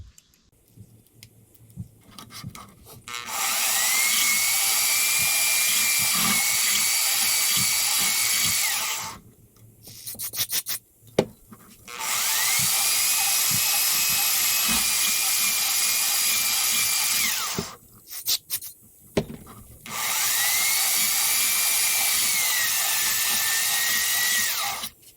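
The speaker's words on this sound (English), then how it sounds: "So now we can hone out these wheel cylinders." Brake wheel cylinders from a 1949 Chevrolet Fleetline are honed with a power drill, three long steady high-pitched whining runs separated by short pauses with clicks and handling noises, recorded up close with no talking.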